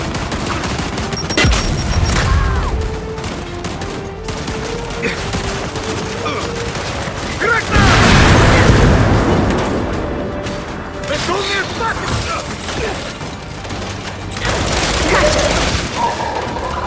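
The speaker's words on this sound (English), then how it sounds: "Frag out!" Frag grenade blast and gunfire in the video game Gears 5, with sustained bursts of shooting and a heavy explosion near the middle, under shouted game dialogue and combat noise.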